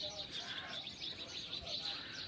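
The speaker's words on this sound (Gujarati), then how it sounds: "આ બાજુ જો આ જે ઝાડવા છે એમાં ચકલીઓને બેસતી હશે એટલે અવાજ કરે અત્યારે ચી ચી ચી" A flock of sparrows in roadside trees keeps up a dense, unbroken chatter of high chirps, moderately distant, against a soft low background hum under an overcast evening sky.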